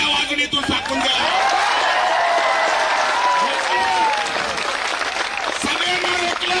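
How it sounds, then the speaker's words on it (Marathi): A crowd at a protest rally claps loudly and continuously, a dense wash of applause with scattered cheers and voices mixed in throughout. "जोरात टाळ्या वाजून इथून टाकून द्या."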